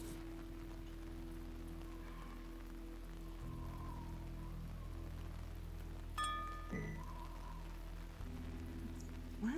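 Steady rain falling, a soft continuous patter under a low background hum, with a brief chime-like tone partway through and no voices.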